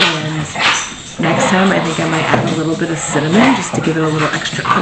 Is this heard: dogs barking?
yes